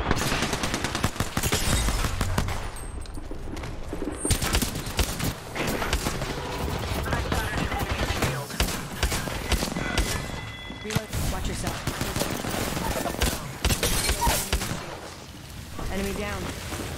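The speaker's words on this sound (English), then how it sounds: "Opening fire. Taking fire." Gunfire in the video game Apex Legends, dense overlapping bursts of automatic shots and blasts that pound almost continuously and loud, with game voice callouts mixed underneath.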